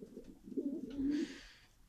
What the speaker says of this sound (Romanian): Porumbeii vor fi eliberați.